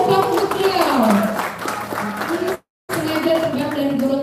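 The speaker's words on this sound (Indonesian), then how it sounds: "Kasih tepuk untuk beliau." An audience applauds at a political gathering, a dense burst of clapping that cuts out abruptly for a moment and then resumes just as full.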